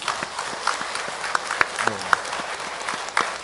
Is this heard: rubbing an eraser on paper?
no